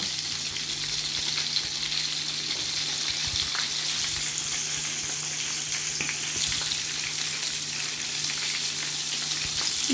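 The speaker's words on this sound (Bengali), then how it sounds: "তো এগুলো এপিট এপিট করে ভালো করে বেজে নিচ্ছি।" Pieces of chicken chap frying in hot oil, a loud continuous close sizzle with faint crackles and occasional light handling, no talking.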